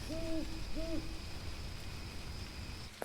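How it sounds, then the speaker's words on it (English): Two distant, echoing hoots of a great horned owl in a forest by a river, each a short low call, followed by quiet ambience with a faint steady high insect-like tone. "In the distance, the hoot of a great horned owl echoes through the trees."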